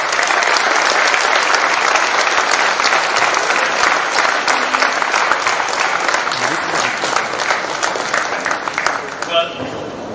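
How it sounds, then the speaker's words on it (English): A huge, dense round of applause from a large audience welcoming a speaker at an interactive session, loud and sustained for about nine seconds before tapering off. "Please welcome him with a huge round of applause"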